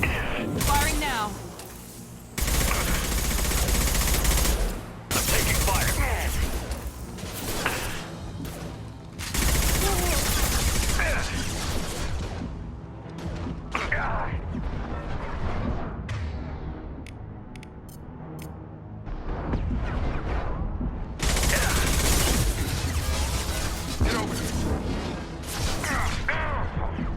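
Rapid gunfire from the video game Mass Effect 2 comes in repeated loud bursts of dense shots and crashes, separated by short calmer stretches under a continuous game soundtrack.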